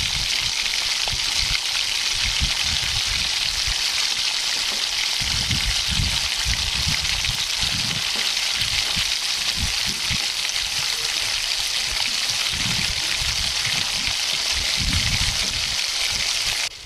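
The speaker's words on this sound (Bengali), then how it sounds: "ললিপপগুলোকে আস্তে আস্তে করে আমি ভেজে নিচ্ছি।" Lotiya dried-fish lollipops wrapped in pumpkin leaves fry in soybean oil over medium-low heat, giving a steady, dense sizzle with soft bubbling pops throughout.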